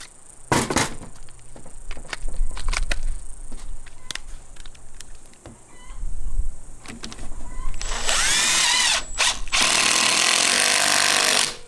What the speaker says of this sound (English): now I got to drill a different hole.